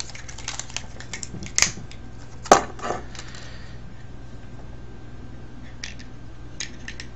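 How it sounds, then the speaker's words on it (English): Wire stripper snipping insulated wire while scrapping a Canon Powershot A95 camera, heard as a couple of sharp, close clicks and snaps over a faint background hum, with scattered light ticks and no talking. "Wire stripper, but has a little area where you can cut"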